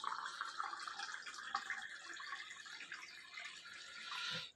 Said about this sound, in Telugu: సెకండ్ కప్పులో వెస్టీజ్ షార్ప్ వాటర్ ప్యూరిఫైయర్ది ఫిల్టర్ చేసిన వాటర్